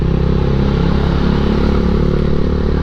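KTM 790 motorcycle cruising at around 70 mph, a loud, steady engine drone with a constant rhythmic pulse, heard up close and uninterrupted.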